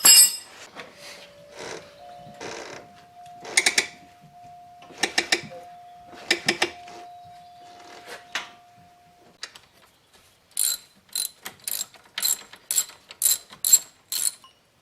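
A ratchet wrench works on the hub assembly bolts behind a car wheel during a wheel bearing replacement. Bursts of rapid clicking alternate with pauses and a few metallic clinks, close and fairly quiet, with no talking.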